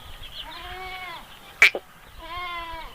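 Two drawn-out goat bleats, close and wavering, separated by a short sharp knock.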